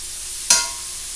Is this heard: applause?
no